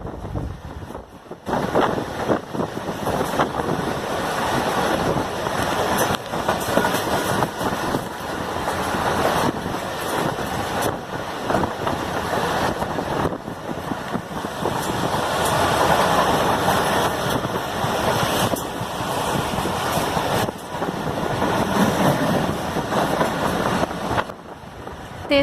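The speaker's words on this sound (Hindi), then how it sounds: "आज की वीडियो शाहीवाला अराइविंग एंड डिपार्चर की है बाय 8 डाउन तेजगम एक्सप्रेस।" The 8 Down Tezgam Express of Pakistan Railways arriving at Sahiwal station, Pakistan: a loud, steady, continuous rumble and roar of the passing train mixed with heavy wind buffeting on the microphone, with no talking.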